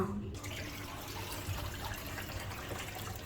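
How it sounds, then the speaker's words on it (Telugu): Water draining from boiled prawns through a sieve in a home kitchen, a soft continuous trickle and splash that stays faint and steady after a brief clatter at the start. "ఇలా జల్లెడ గిన్నెలో వేసేసామనుకో ఉన్న కాస్త నీళ్ళు కూడా ఒకవేళ అడుగున ఉండిపోయినా కూడా అది మెల్లగా వెళ్ళిపోతుంది."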